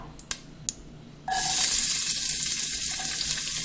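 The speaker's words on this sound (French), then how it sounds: "en premier lieu, on fait revenir l'oignon" Onion hits a hot pot for minestrone soup with a sudden loud sizzle that holds steady as it sautés, preceded by a couple of light utensil clicks.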